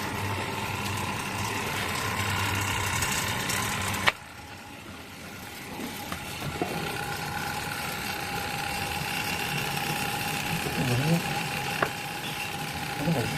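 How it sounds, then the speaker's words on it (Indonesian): A vacuum pump evacuating the cooling system of a single-door refrigerator under repair for a pierced evaporator leak: a continuous mechanical hum and drone, close and steady, with a brief click partway through and someone speaking over it at times. "Proses vakum ya, kita lihat."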